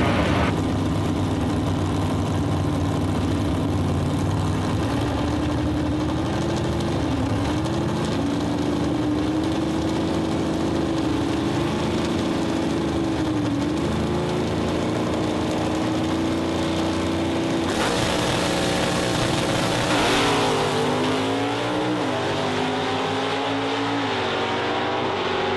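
A 1967 Camaro Z28 C/Stock drag car with a manual gearbox runs down a racetrack, its engine a loud, continuous roar that climbs in pitch through several gear shifts, with a sharp surge near the end.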